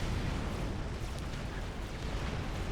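Artillery fire in Supreme Commander: Forged Alliance, heard as a continuous rumbling barrage of blasts and booms with no clear gaps, loud and dense throughout.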